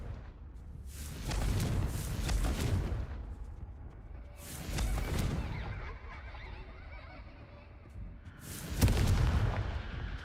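Blasting spell explosions from Hogwarts Legacy, several heavy booms rolling out at intervals with a loud final blast, each decaying into low rumble over game ambience.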